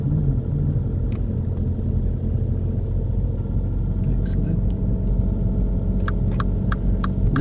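Car engine running at a steady low rumble and hum during a driving lesson on a suburban road, heard from inside the cabin with a few faint clicks on top.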